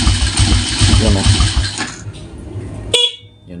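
A motorcycle horn honks in a sustained blare for nearly two seconds, followed by a quieter pause and a short sharp click.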